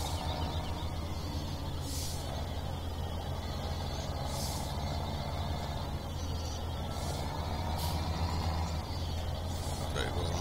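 Steady low engine drone of a Case tractor pulling a trailer in Farming Simulator 17, with occasional brief hissy bursts overhead, continuous and moderately loud throughout.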